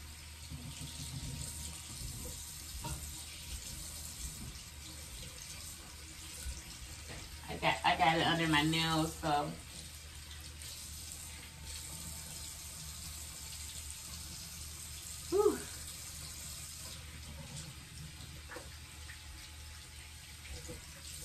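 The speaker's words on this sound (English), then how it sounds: "Then I'm going to rinse my face again." Tap water running into a bathroom sink while a face is rinsed, a brief burst of splashing under a quiet room hiss, followed later by a short clatter.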